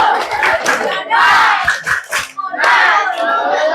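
A group of young people at a youth health post session doing a rhythmic spirit clap while shouting a chant together, loud and close, bursts of clapping and voices over a few seconds.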